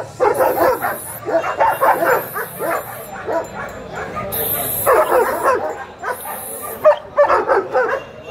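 Dogs bark over and over at a Friday market for guard dogs, a mix of loud close barks and yips with some whimpering, among people talking and a few high whistle-like tones.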